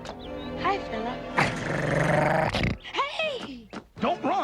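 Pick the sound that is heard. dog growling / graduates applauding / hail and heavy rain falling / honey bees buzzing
dog growling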